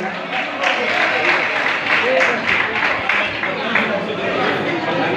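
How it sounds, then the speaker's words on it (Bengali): An audience at a school anti-corruption debate competition applauds as the runner-up trophy is presented: dense, steady clapping from a crowd that lasts throughout, with faint chatter mixed in. "করতালি দিয়ে উৎসাহিত করি।"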